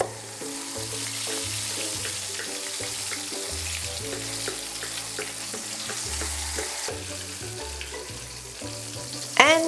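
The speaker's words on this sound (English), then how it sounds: "Using a spatula, keep pushing the oil onto the fish" Oil being pushed with a spatula over a fish frying for Nyonya sweet and sour fish, a steady loud sizzle with scraping strokes and faint background music.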